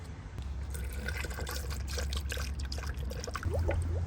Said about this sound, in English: We're gonna fill it up with some coolant